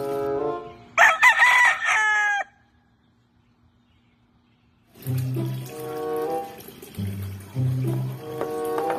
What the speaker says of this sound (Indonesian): Wow, ternyata ini ayam teman-teman.